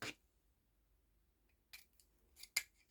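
Scissors snip through a piece of fabric while making a Christmas bauble, giving a few sharp, close cuts, one at the start and a cluster near the end, separated by quiet.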